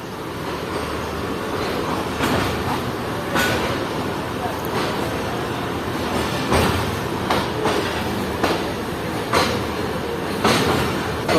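A train on Pakistan's ML-2 line rolls along steadily with a dense rumbling roar, and periodic sharp clacks of wheels crossing rail joints punctuate the noise.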